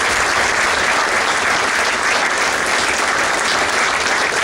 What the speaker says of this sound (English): Join me in a round of applause for the job they did.